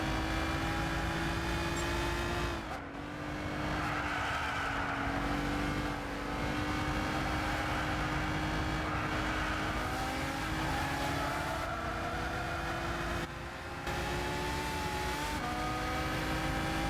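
A Ferrari races in the video game Gran Turismo 6, its engine droning loudly and continuously with a whining tone that rises and shifts through brief gear changes.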